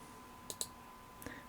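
A computer mouse clicks in a quiet room, two quick close clicks followed after a pause by two softer ones.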